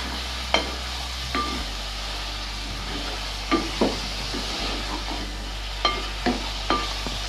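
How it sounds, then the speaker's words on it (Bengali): Chicken being stirred with ground cumin, turmeric, pepper and salt in a pan, a quiet background sizzle broken by sparse sharp scrapes and knocks of the spoon against the pan, close and irregular. "নুন দিয়ে আমরা ভালো করে এগুলিকে মশলার সাথে এবং চিকেনের সাথে মিশিয়ে নেব"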